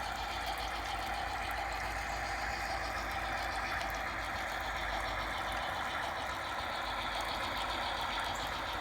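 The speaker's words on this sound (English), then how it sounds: "So now we're going to pull forward and tack it onto the end of our train" A G scale garden railway locomotive on an outdoor layout pulls forward to couple onto a wood chip hopper train, giving a steady, even motor hum and rumble that holds at constant loudness throughout, with no talking.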